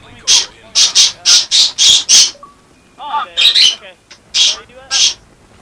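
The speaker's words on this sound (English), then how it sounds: "Sorry about the squawking, that's my birds" Pet birds squawking loudly indoors, a rapid run of about six harsh shrill calls, then a pause and several more squawks mixed with someone talking.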